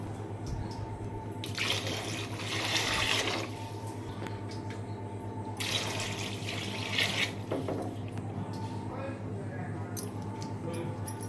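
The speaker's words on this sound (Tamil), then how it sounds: "நாலு உலக்கு தண்ணி ஊற்றிக்கிறேன்" Water is poured from a vessel into a pot of soaked rice for a vegetable biryani, running in a few bursts of steady splashing over a low electrical hum, with someone speaking in between.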